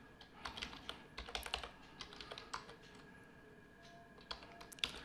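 Someone types on a computer keyboard in a quiet room, with irregular soft key clicks coming in small clusters and brief pauses.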